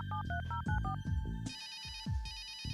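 A telephone rings in Runaway: A Road Adventure, repeated electronic ringtone bursts with a warbling pattern over a low throbbing music bed, loud and close.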